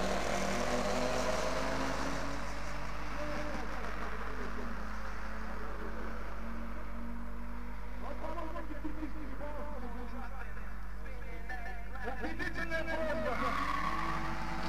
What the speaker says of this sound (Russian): А сейчас заезд победителя данного чемпионата. Автомобиль Chevrolet Corvette.